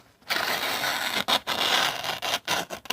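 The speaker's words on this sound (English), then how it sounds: "that's the sound of a sharp knife going through phone book paper" A sharp D2 steel knife slicing through phone book paper, producing several close, crisp rasping cuts in quick succession with brief pauses between strokes, no voice over it.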